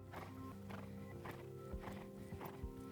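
Thoroughbred event horse's hooves clip-clopping in a steady walking rhythm, close and fairly loud, with almost no talk.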